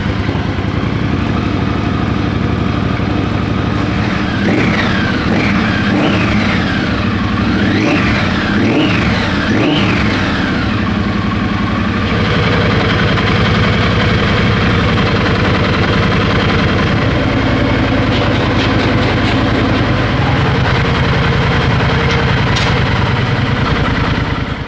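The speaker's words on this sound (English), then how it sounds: "Evan's giving it a once over for the first start." Custom touring motorcycle with upside-down forks, fire-up on its first start: the engine catches and settles into a loud, steady idle, with a few rising and falling blips of throttle early on, close to the bike.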